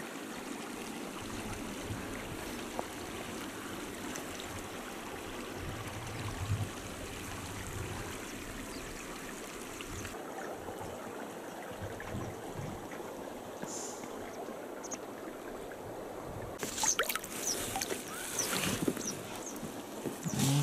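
River water on the Sobolokh-Mayan in the Verkhoyansk range flowing steadily during a solo rafting trip, a soft, even rushing murmur with faint splashes and a brief louder surge near the end.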